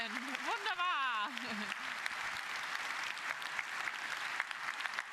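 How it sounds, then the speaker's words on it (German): Audience applause after a group presentation by a team called the taffen Giraffen fills the room, steady dense clapping throughout, with a voice talking briefly over it at the start. "Großer Applaus auch an euch"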